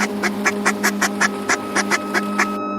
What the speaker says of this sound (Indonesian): Bebek-bebek berlari-larian kompak bolak-balik dari ujung ke ujung.